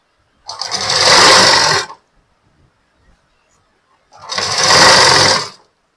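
A sewing machine stitches a lehenga being made from a saree, running in two loud, steady bursts of about one and a half seconds each, separated by a short silent pause.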